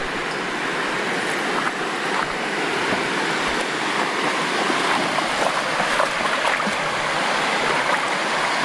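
Steady rushing water flows continuously throughout, a broad even wash like a creek running over rocks, with no voices.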